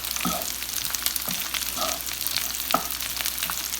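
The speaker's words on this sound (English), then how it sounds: "This, we're going to take and stir, stir, stir, okay?" Sausage, onions and mushrooms sizzle steadily in a pan while a utensil scrapes through them in a few rhythmic stirring strokes, close up.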